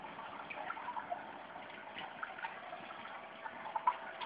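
Pump in a three-level masonry aquarium system running with a soft, steady trickling water hiss and faint bubbling, quiet and continuous.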